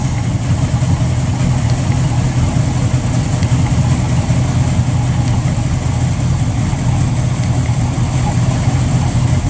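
A boat engine idles steadily at a dock, a continuous low rumble with a faint hum on top holding an even level throughout.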